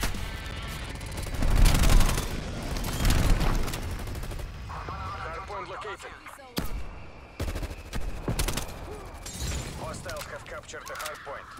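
In a Call of Duty Cold War Hardpoint match, a strafe run scorestreak unleashes loud bursts of rapid gunfire and booming impacts that come in waves, mixed with game effects and a voice talking over the action.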